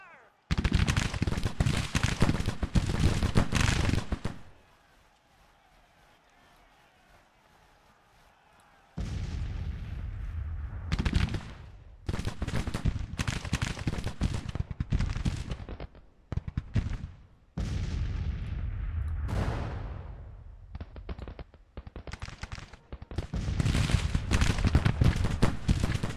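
Civil War musket volleys and booming artillery from the Grand Tactician strategy game come in heavy, loud bursts of rolling gunfire, broken by a few seconds of near silence and short pauses before firing resumes.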